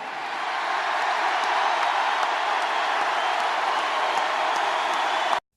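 A political rally crowd cheers and applauds steadily, a dense, loud roar of voices and clapping that holds for several seconds before cutting off abruptly.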